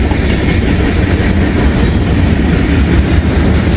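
Freight train of Norfolk Southern and Norfolk and Western grain cars rolling past close by, a loud continuous rumble with rhythmic clickety-clack of wheels over rail joints and no talking.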